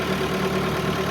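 A mobile screen's engine runs steadily at idle, a continuous mid-low hum with no change across the short moment.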